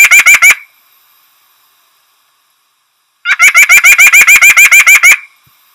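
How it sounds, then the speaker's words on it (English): A white-breasted nuthatch calls in rapid nasal, honking notes, a short burst of a few, a pause, then a longer run of about a dozen evenly spaced notes, loud and close. "so that is the white-breasted nuthatch"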